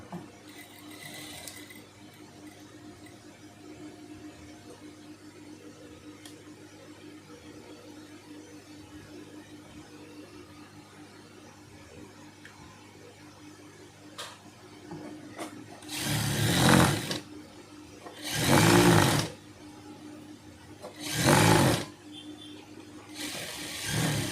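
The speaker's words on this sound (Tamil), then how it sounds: "சைடு தையல் போட்டாச்சு." A sewing machine stitching the side seam of a small LKG/UKG school uniform dress: a low quiet background at first, then three short loud bursts of mechanical whirring near the end, separated by brief pauses.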